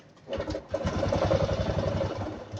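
Engine cranking after a genuine replacement fuel pump is fitted, a steady rapid mechanical chugging that holds for about two seconds, close and moderately loud.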